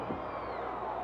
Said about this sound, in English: crowd rising to a steady crescendo